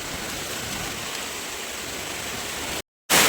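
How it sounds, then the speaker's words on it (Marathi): Heavy monsoon rain pours down in Mumbai as a dense, steady roaring hiss that holds evenly, then cuts out briefly before returning. "असा लागतोय बघा जोरदार धुवादार पाऊस आपल्या इथे"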